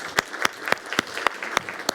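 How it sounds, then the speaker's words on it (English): Conference audience applauding a speaker at a tech hack event, a brisk run of fairly close, evenly spaced claps. "Give a big hand of applause for Vegard Vaage from Net Security."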